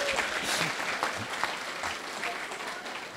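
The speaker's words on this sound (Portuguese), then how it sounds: "As palmas são para a professora" An audience claps for a teacher during a state affairs discussion, a moderate spread of hand claps with some speech mixed in.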